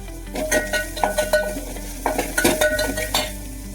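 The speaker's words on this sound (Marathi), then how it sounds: "मिक्स करायचं, मिक्स करायचं." A utensil stirs and scrapes food in a frying pan while it sizzles, with a rhythmic series of close metallic clinks and scrapes over a steady hiss, no talk.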